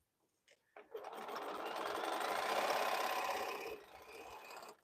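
A sewing machine stitches a fabric bowl cozy in one continuous run of a few seconds. The close, fast needle clatter starts after a couple of short taps and stops abruptly near the end, with no voices.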